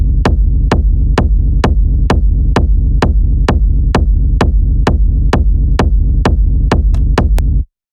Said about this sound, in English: it's a pretty heavy techno kick with the classic reverb delay rumble